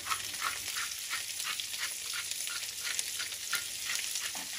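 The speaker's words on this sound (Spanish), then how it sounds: "lo vamos a mover pues para que se nos vaya sofriendo todo junto" Eggs, peppers and onion fry in a pan with potato chips, giving a steady crackling sizzle with faint stirring, heard alone and fairly quiet.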